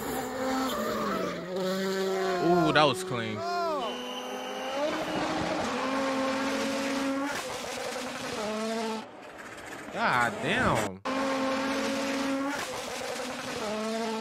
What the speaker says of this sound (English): the sound of the turbos on those cars